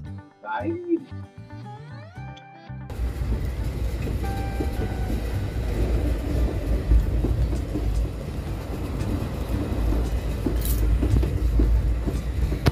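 A train rumbles along steadily with a continuous low roar and rattle; a short burst of music plays at the start before the running noise takes over.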